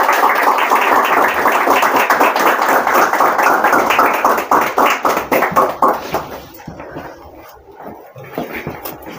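An audience at an AutoCAD drafting competition award ceremony gives a runner-up a loud round of applause with dense, steady clapping that thins out and fades toward the end.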